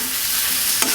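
Taro and fish pieces with spices frying and being stirred in a pan: a loud, continuous sizzle with one sharp scrape of the utensil near the end, and no talking.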